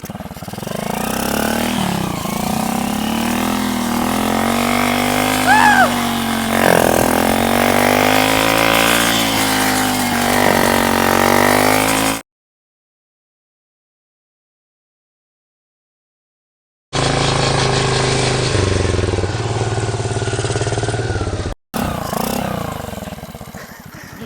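A BMX bike fitted with a motorbike engine revs and drifts, its small engine buzzing loud and close with rising and falling revs, then cutting out to silence before returning in short revving bursts.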